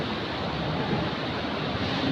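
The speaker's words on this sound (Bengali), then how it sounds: "এই ধাবার পাশ দিয়ে বয়ে চলেছে নদী, পুরো বরফ গলা জল," A snowmelt river rushes beside a roadside dhaba, its steady, dense roar of white water continuous and close, with no voices over it.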